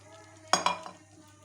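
A few quick stirring scrapes of a spoon through a flour and water batter for egg paratha, close and fairly soft, over a steady low hum.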